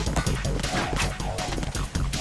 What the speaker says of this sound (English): I can shoot out the lights.